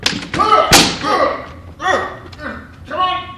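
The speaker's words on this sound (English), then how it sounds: "Help me break in the door." A door being broken in as a radio drama sound effect, a sharp heavy slam among thuds and knocks, with voices speaking and grunting around the impacts.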